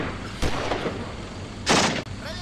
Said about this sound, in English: Quite a lot of MG fire, don't you think, for a couple of men?